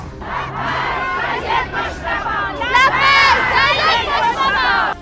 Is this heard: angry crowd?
yes